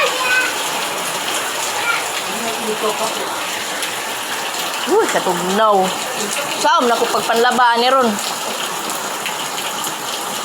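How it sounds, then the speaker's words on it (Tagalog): Heavy rain pours down in a steady, dense roar, with people talking loudly over it. "Dako kayong ulan."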